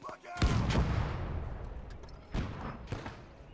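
Cannon fire in the WWII strategy game Call to Arms – Gates of Hell: Ostfront, a 37mm gun: a heavy boom, then two more booms about a second apart, each with a long rumbling tail, with talk alongside.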